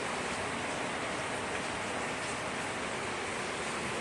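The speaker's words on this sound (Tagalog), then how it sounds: "Medyo lakas-lakas yung ulan." Fairly heavy morning rain falls on a farm, a steady, dense hiss that holds level throughout with no individual drops standing out and no voices.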